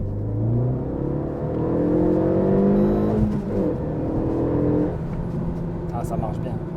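A Renault Megane 3 RS Trophy accelerates hard on the road, its engine and exhaust revving up through rising pitch sweeps with a gear change, heard from inside the car beneath occasional speech.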